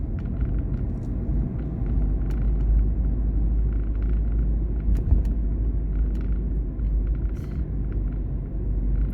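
A manual car's engine revs and accelerates steadily in Mersin city traffic during a driving lesson, a continuous low rumble heard from inside the cabin with no speech.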